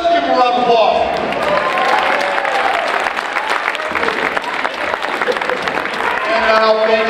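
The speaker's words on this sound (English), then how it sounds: "Let's give them a round of applause." Audience applause after a song at a high school holiday band and choir concert, loud sustained clapping and some cheering filling a hall, with lingering musical tones and crowd murmur mixed in.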